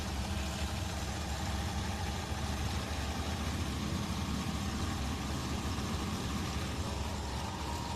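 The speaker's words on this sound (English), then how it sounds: "You can hear them all getting lined up and revved up behind us." Several rock bouncer buggies rumble and idle together at a staging line during a racing event, a dense continuous engine noise with no talking.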